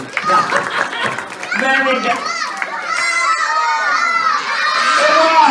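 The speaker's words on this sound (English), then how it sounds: "Big clap to everyone!" A group of children cheer, shout and clap in a lively burst at a kids' magic show, their voices overlapping loudly and building toward the end.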